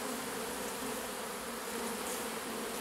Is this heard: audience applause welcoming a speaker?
no